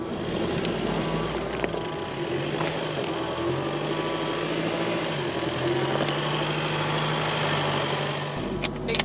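A 4-wheel drive vehicle climbs an uphill offroad track with a steady engine drone and shifting low tones, continuous and close, with no talk.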